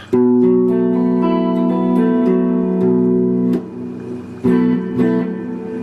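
Clean, dry electric guitar with the Strymon Cloudburst reverb pedal's mix fully off strums a run of chords and single notes, close and loud, with a short pause before playing resumes; no talking.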